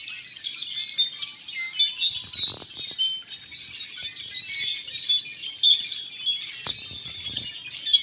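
A dense, continuous chorus of thousands of birds chirping and calling at once, steady throughout, with a few soft rustles underneath.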